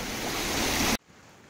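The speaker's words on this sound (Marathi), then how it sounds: "हे बघा ही छोटीशी नदी आहे।" A small shallow river at an off-road water crossing near Verna, Goa, rushing and hissing steadily at close range for about a second before the sound cuts off abruptly.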